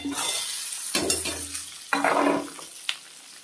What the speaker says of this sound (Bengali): এখন পেঁয়াজগুলো দিয়ে দেব, দুটো তেজপাতাও দিয়ে দিলাম।